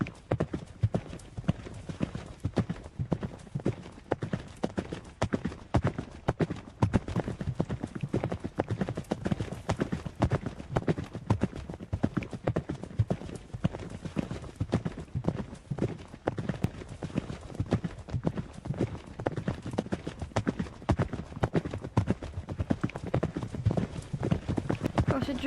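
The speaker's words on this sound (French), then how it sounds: "Moi je marche mes juments" Steady clip-clop of mares walking in an equestrian setting at a show-jumping competition day, a continuous, close rhythmic patter of hooves lasting throughout.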